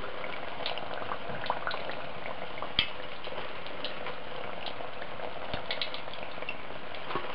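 Lumpia, spring rolls filled with bean sprouts, frying in hot oil, giving a steady, dense sizzle and bubbling that holds throughout with a few small pops and crackles, close and alone without any voices.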